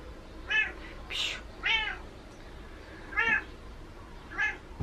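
A pet cat meows repeatedly indoors, giving about five distinct, fairly close meows spaced unevenly with short quiet gaps between them, with no talking over the calls.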